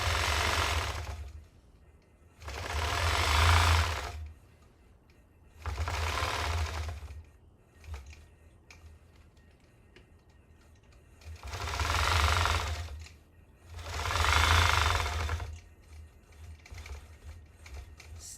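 A longarm quilting machine stitches along a ruler in five distinct bursts, each a loud, steady mechanical whir with low motor hum. Quieter pauses fall between the runs, and the sound is close with no talking.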